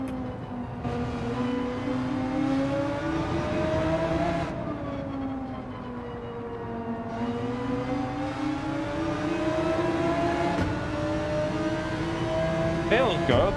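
A Group 3 race car engine in Gran Turismo 7 drones steadily, its pitch rising and falling through revs and gear changes, a sustained close engine note with light talk at times.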